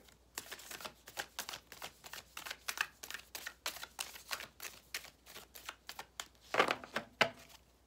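Playing cards shuffled by hand in quick repeated riffles, a steady run of crisp close-up flutters and snaps, with no voices.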